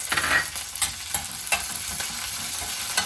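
Curry leaves dropped into hot oil in a pan for peanut chutney crackle and sizzle steadily, with stirring scrapes and small bursts throughout.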